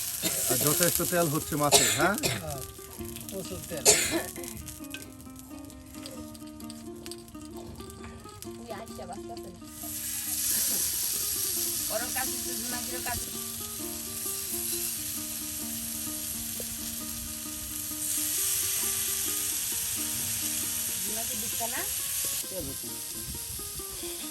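Pangas fish frying in hot oil for a village-style bhuna curry, giving a steady, loud sizzle that swells and continues throughout, with occasional utensil stirring clatter and people talking over it.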